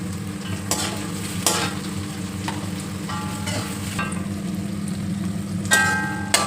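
Ginger, green chillies and garlic fry in a pan with a continuous close sizzle, broken by occasional metallic scrapes and clinks from stirring.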